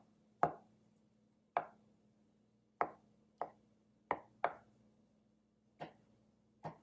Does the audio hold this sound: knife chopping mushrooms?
yes